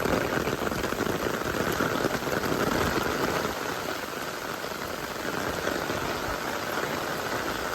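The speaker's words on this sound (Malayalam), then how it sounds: "ഇതാണ് ഡാമിലെ മഴ" Heavy rain pours steadily at a dam in Kudayathoor, Thodupuzha, in a dense, hissing wash, loud and continuous with no voices.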